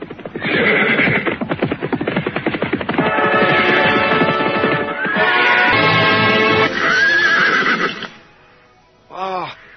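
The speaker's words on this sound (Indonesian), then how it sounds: "Dari jauh terdengar derap orang-orang berkuda." Horses gallop and neigh as mounted riders approach at dawn in a dramatized scene: a loud, rapid, pounding hoofbeat rhythm runs under repeated whinnies, ending with a separate neigh after a brief pause.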